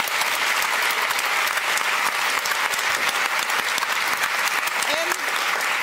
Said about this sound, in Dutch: Dus een heel hartelijk applaus voor Chris Keijn.